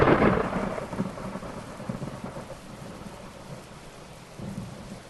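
Audio-drama thunderstorm effect: a loud thunder crash rolls in at the start, then steady rain pours on through a low rumbling tail, with a second swell of thunder near the end.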